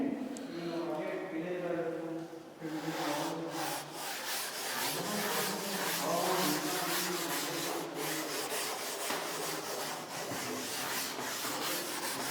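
Writing being rubbed out on a lecture board, an ongoing scraping and rubbing texture in quick back-and-forth strokes, close and fairly loud, with a voice speaking faintly under it at the start.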